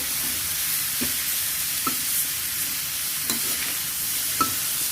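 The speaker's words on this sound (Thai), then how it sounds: "คั่วพร้อมกันไปก่อนเราเติมน้ำทีหลังค่ะ" Chicken and young pumpkin stir-frying in a pan, a bright steady sizzle with regular soft scrapes and taps of the spatula, close and even throughout, with no voices.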